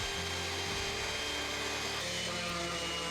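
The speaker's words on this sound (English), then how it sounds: "it's time to put the router to work again" A power router whines and hums steadily as it cuts a 45-degree chamfer into the edge of a wooden ruler, a continuous droning machine noise with a sustained pitch and no pauses.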